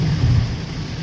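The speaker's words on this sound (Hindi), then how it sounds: "बारिश देखिए आप क्या ताबड़ तोड़ हो रही है ना भाई, ये तो रुकने का नाम ही नहीं ले रही है।" Heavy rain drums on a Nissan Magnite XE during a drive from Jaipur to Salasar Balaji, a loud, continuous broadband roar with low rumble, steady throughout the short moment.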